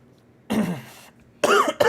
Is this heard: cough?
yes